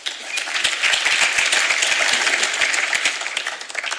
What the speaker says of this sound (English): A smattering of applause just about frame ball